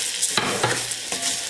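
Rice is stirred into sautéed carrot, bell pepper and onion in a hot pan, giving a bright sizzling hiss with several quick scraping strokes of a spoon, loud and close.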